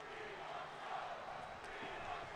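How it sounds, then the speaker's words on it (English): A wrestling arena crowd in the WWE 2K22 video game chants, a dense, steady roar of massed voices that holds at an even level throughout. "The crowd's chanting they want the smoke."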